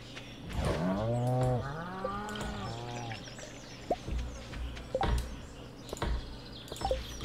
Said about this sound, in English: We'll go milk our cow.